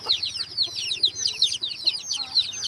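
Several chickens cluck steadily and overlap one another in a short, busy stretch, fairly near, with faint low murmuring underneath.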